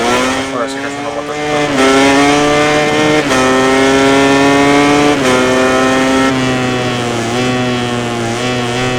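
A racing motorcycle engine from the MotoGP video game on PS4, set at the Catalunya Grand Prix, revs hard and steadily with rising pitch sweeps as it shifts through gears, loud and continuous throughout.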